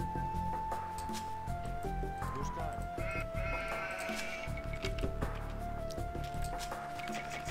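Sheep bleat in an Age of Empires 2 HD match, with a few wavering animal cries among dense game sounds, background music and clicks, heard fairly faint and steady throughout.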